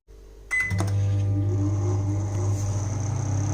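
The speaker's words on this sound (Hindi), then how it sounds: "अब हमें इसे माइक्रो हाई पर माइक्रोवेव पर 5 मिनट का टाइमर सेट करते हुए इसे हमें कुक कर लेना है।" A microwave oven runs on high while a sweet potato cooks inside, starting with a click and then a steady low mechanical hum with a faint fan whir, close and constant.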